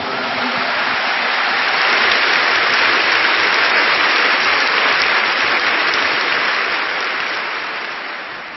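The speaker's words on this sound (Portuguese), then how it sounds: "Muito aplauso ao Senhor por isso." A church congregation breaks into loud, thick applause that swells quickly, holds as a continuous rushing wash of clapping, then begins to taper off at the end, with no talk over it.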